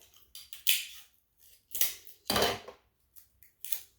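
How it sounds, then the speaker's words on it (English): Tape pulled and torn while sealing a giant homemade lollipop craft: several short, crisp ripping and crackling bursts at close range, with one longer screech of tape unrolling partway through and quiet pauses between. "So I'm going to tape mine shut."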